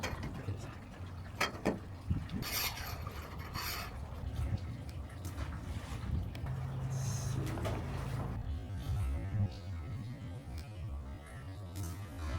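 A metal flagpole slides and scrapes into its mounting base aboard a boat, a steady rasping, rubbing sound with a few sharp knocks, close and fairly loud over a low background rumble.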